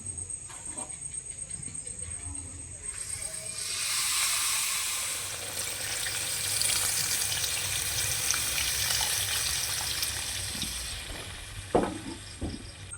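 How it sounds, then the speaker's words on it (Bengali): Hot water pours into a curry of rohu fish head and elephant foot yam cooking on the stove, a close, steady rushing hiss with sizzling that swells midway and ends with a few clatters. "এখন গরম জল দিয়ে দেব।"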